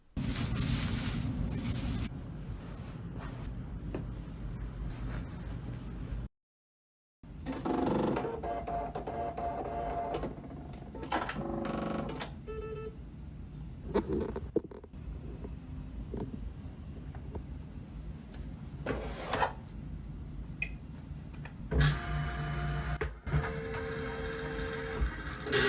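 An embroidery machine runs while someone learns to use it, giving a steady mechanical whir with rapid stitching patter that stops and restarts, a brief silent gap, and scattered clicks and knocks.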